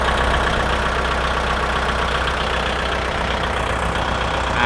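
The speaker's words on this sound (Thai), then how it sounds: "เครื่องยนต์สตาร์ทติดง่ายนะครับ" A Kubota L5018SP diesel tractor engine, 2021 model, idles steadily, a low continuous rumble with a rough mechanical chatter, close up and unchanging throughout.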